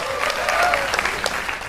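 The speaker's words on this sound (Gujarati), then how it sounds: "તો મિત્રો અભિષેક શાહ માટે ફરી એક વખત તાળીઓ થઈ જાય એવરીબડી." An audience at a live talk show claps together in a dense, sustained burst of applause, close and fairly loud, with a few voices mixed in.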